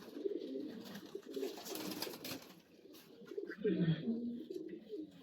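Silver pigeons, including a silver hen kept for racing tournaments, coo in soft, low repeating bursts close by, with a louder rolling coo near the end over faint background rustle.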